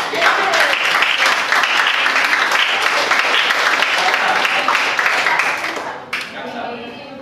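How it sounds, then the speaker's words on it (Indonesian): A lecture-hall audience applauds the defense team in a mock trial with a loud, dense burst of clapping and some voices, running for about six seconds before cutting off abruptly into quieter room sound. "Berikan tepuk tangan buat pembela"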